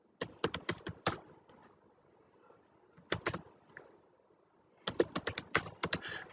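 Email typed on a computer keyboard: bursts of quick, close key taps in three clusters separated by short pauses, crisp and clattery with no voice over them.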